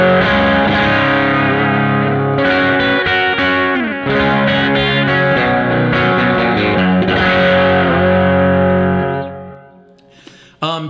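An electric guitar played through a Helix amp modeler with an impulse response and EQ rings out in thick, distorted chords for about ten seconds, then fades and cuts off with a brief string noise.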